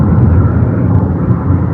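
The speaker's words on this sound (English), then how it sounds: "Look at that plane." A fixed-wing airplane, of the kind that flies to Bimini and lands on the ocean, drones steadily and loudly overhead outdoors, a continuous broad low roar with no voices.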